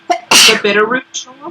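A single loud, close sneeze bursts out amid casual conversation, with people talking just before and after it.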